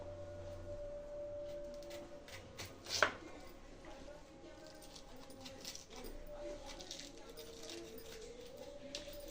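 A knife slices large green chillies down the middle for mirchi bajji, with one sharp, faint cut standing out against a low room hum while someone talks.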